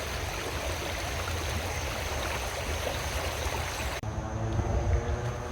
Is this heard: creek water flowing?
yes